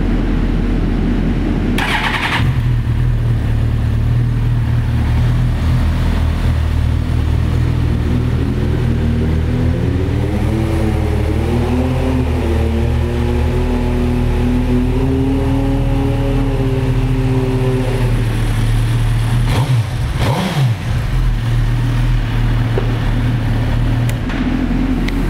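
A used orange Suzuki GSX-R1000 motorcycle with about 7,900 miles cranks and starts, settles into a loud steady idle, then revs up and down repeatedly before a sharp throttle blip and a return to idle, close and without talk.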